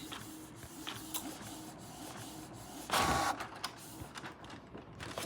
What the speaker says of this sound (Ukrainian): ти злякався трошки цього принтеру